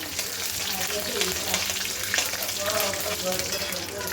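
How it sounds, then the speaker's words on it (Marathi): Cumin seeds and curry leaves frying in hot oil for a stuffed brinjal masala, a loud, continuous crackling sizzle close by, with faint stirring underneath and no talking. "एक टीस्पून जिरं टाकलं त्यामध्ये कढीपत्ता टाकून घ्यायचा टाकायचा"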